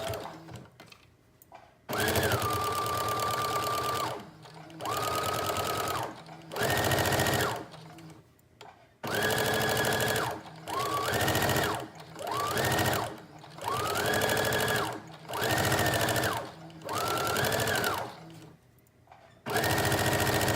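Sewing machine stitching furry fabric for a teddy bear jacket in repeated bursts of rapid, steady whirring, each lasting a second or two with brief pauses between, close and loud.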